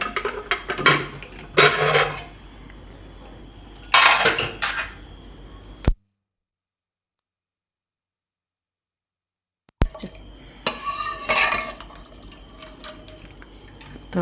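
A pressure cooker of freshly cooked rice being opened on a home kitchen stove, with metal clinks and clatter of the lid and pots in two short bursts separated by a silent gap.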